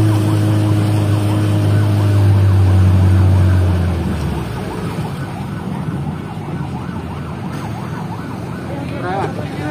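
An ambulance siren wails, rising and falling repeatedly at a distance, under a loud low engine rumble that fades after a few seconds, with faint street noise, in Banjarmasin.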